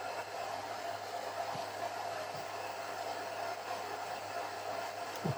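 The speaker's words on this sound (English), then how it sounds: "The fan is very noisy." Cooling fan of a cheap Chinese MDL-150 DC electronic load running loudly under load, a steady whooshing whir that holds constant throughout with no talk.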